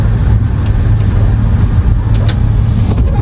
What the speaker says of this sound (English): We're gonna be doing a POV drive in my 330i.